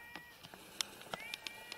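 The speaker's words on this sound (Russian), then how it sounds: "Четыре кошки. Она очень хорошая." Several cats sharing a home meow in short, faint calls spread through a quiet room, with no talking over them.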